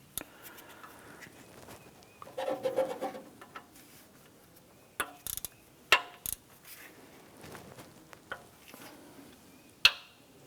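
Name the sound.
ratchet snugging down timing cover bolts on Honda Civic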